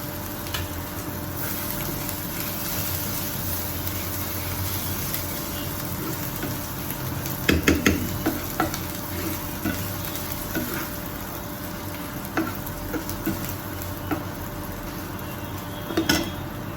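Grated ginger frying in a pan: a soft, steady sizzle under a hum, with occasional clinks and scrapes of a utensil stirring against the pan, a cluster near the middle and another near the end.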